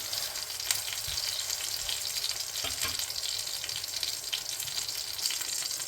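Okra (bhindi) sizzles steadily in a hot pan over a very hot stove, a dense continuous frying hiss with a few faint stirring knocks and no voices.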